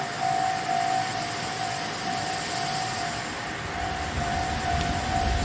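A steady, ringing warning tone from the Nanko railroad crossing in Kagoshima, Japan, holds throughout, over a loud rumbling background of motor or wheel noise.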